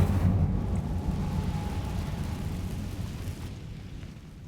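An Incendio fire spell in Hogwarts Legacy, a low rumbling whoosh of flame that is loudest at the start and then fades away, quiet overall, with no talking.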